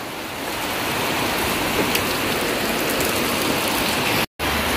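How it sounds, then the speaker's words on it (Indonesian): Steady, dense rain falls close by, a constant loud hiss of drops with no talk, cutting out for a split second near the end. "Ini kebetulan ada rezeki hujan ini."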